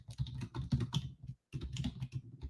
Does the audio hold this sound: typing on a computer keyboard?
yes